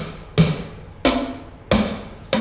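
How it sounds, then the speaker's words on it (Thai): Electronic snare hits from a D4 drum module set up for a Thai parade sound truck: four sharp, loud strikes at a steady, evenly spaced pace, each decaying quickly, with no voices. "แสแนก็มีหลายเสียงามารถเปลี่ยนได้ครับผม"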